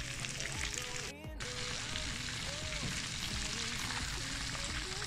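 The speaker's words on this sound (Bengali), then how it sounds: "এটা আমি এক পাশ বাদামি করে উল্টে দিয়ে আরেক পাশ বাদামি করে ভেজে নিব" Chicken drumsticks frying in oil in a frying pan, a dense continuous sizzle and crackle up close with a brief dip in the middle, and a voice speaking over it at times.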